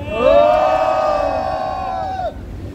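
A crowd at a political rally gives a loud, sustained shout of cheering, many voices rising together into one long held cry that cuts off abruptly.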